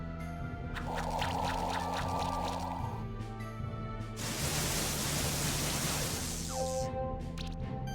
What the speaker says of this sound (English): I need to get a better noise for the follow sound